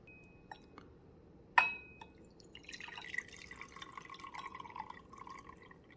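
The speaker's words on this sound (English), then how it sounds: "I'm gonna dump this out into a bowl, and I'll show you the sediment" Coffee is dumped out of a cup into a bowl, a faint sharp clink followed by a soft splashing trickle and gentle liquid pour, quiet and close.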